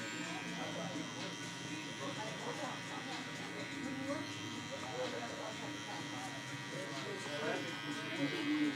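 An electric hair clipper buzzes steadily and close while cutting a mid fade at a barber's, its hum continuous throughout with someone talking over it.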